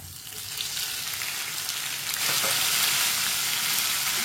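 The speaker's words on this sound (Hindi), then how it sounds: "प्याज को मैंने हल्का सा ब्राउन कर लिया। 2 टमाटर कटे हुए" Onions and chopped tomatoes fry for lauki sabzi in a pan, giving a steady close sizzle that grows louder and brighter partway through, with no talking.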